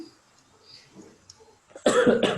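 A couple of harsh coughs break out close by at the end, after a quiet stretch with faint background sounds.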